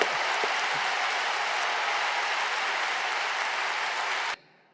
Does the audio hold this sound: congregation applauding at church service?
yes